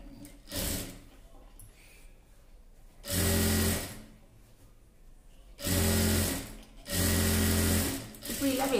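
A sewing machine stitches a folded-in blouse hem in four short bursts of whirring, separated by quieter pauses with soft handling noises and a voice talking between runs.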